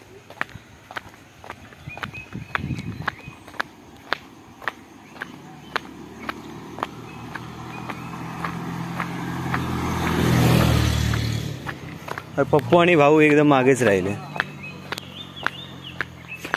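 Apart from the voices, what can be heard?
footsteps of people walking on a village road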